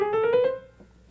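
All twelve chromatic notes run through quickly in scale order, a short rapid stepwise sequence of pitched tones lasting about half a second before fading out.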